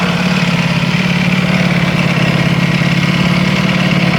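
Loud, steady Ducati Panigale V4R motorcycle engine idle up close, with the constant rapid rattling chatter of its dry clutch running underneath, unbroken from start to finish.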